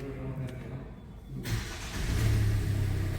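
A Kia Seltos engine cranks and catches after a quiet pause, then settles into a steady idle hum, close and moderately loud.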